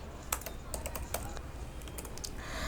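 Keys clack on a computer keyboard in irregular bursts of crisp taps over a steady low hum, close and fairly loud, with no voice over them.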